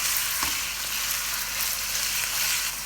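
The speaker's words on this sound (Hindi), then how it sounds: "इस पॉइंट पर हम अपना जो चिकन था उसको भी ऐड करेंगे। फ्लेम को हमने तेज़ रखना है।" Chicken pieces frying over a high flame for restaurant-style Chinese chicken fried rice give a steady, dense, close sizzle, with one brief clatter or stir near the start and no talk.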